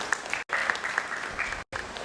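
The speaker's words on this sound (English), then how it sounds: "Ladies and gentlemen, can we have a round of applause," Brief burst of clapping from an audience at an event on lab-grown diamonds, moderately loud with sharp individual claps and two abrupt silent gaps that cut it up.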